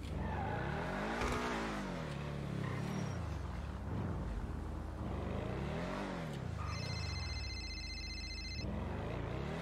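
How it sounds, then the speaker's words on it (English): A car in a video game barrels down a street, its engine revving up and down in repeated sweeps, loud and close throughout, with a brief ringing tone near the end. "Pretty sure I hear your car barreling down the street outside."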